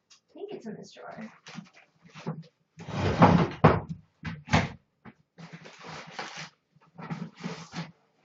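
A wooden drawer is pulled open and rummaged through, with clattering bumps and scraping thuds of objects being shifted, loudest in a burst midway, between stretches of nearby talk.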